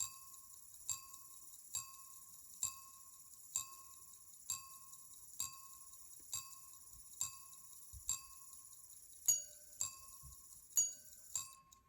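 Faint, light metallic strikes from a LeGuet Swiss sonnerie carriage clock striking the quarter hour repeat at a steady pace, each a small ringing ding, with a few quicker double strikes near the end.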